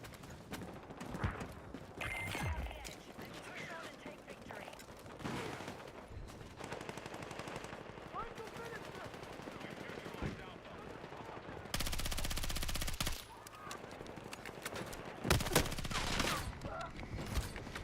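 Rapid automatic gunfire from a video game weapon with a high fire rate, sounding as dense bursts of shots mixed with game effects and clatter, loud and continuous through most of the stretch.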